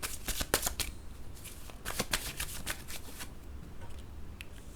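Tarot cards are shuffled by hand in a quick run of soft riffling flutters and papery slaps, fairly close and steady, with no talking over it.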